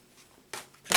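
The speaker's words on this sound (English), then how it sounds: "I was just shuffling, and the Wheel of Fortune and the Fool popped out." Tarot cards being shuffled up close: two quick papery riffle bursts, the second louder and at the very end, with quiet gaps before them.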